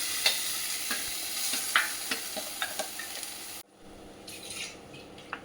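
Spice paste sizzles in a kadai while a spoon stirs and scrapes it, sharp clinks over steady frying hiss, then the sizzle quiets abruptly.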